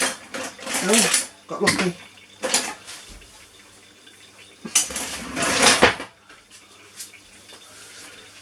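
Metal kitchen utensils clatter and scrape as someone rummages through a drawer for a spatula while making an old-fashioned steamed pudding, in several loud bursts, with a brief spoken remark between them.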